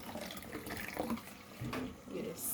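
Squeezed bitter-leaf vegetable juice pours steadily through a sieve, a continuous near trickle and splash of liquid with faint voices murmuring underneath.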